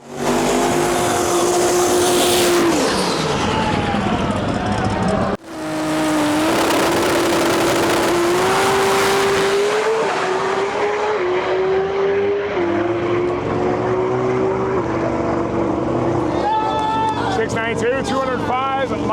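A Chevrolet Nova drag race car tears down the strip at about 187 mph during World Cup Finals qualifying, a loud, continuous engine roar with rising pitch, heard under a commentator's voice.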